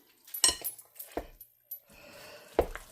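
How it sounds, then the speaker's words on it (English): A spoon clinks against a bowl while blending milk into hot mashed potatoes for a loaded potato casserole, a few sparse close metallic taps and scrapes separated by short pauses. "let's put in our cup of milk. Blend that up with our spoon"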